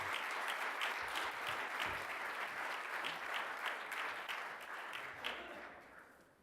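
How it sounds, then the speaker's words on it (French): An audience at a presentation event applauds with sustained clapping that gradually fades out toward the end. "Et je vous demande de les applaudir."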